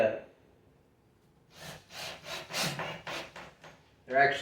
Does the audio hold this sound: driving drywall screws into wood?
yes